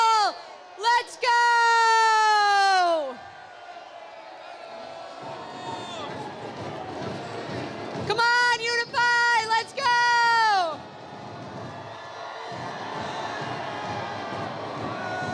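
A high school assembly crowd cheers and whoops in loud bursts, with shrill shouts rising over a constant roar of voices filling a gym-like hall.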